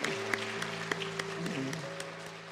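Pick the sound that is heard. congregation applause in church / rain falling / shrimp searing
congregation applause in church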